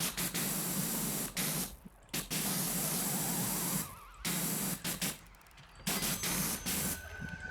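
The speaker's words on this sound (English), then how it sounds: "Spray them down, bro." Steady hiss of water spraying in a cleaning video game, long sustained bursts cut by brief pauses, fairly quiet and even with no talking.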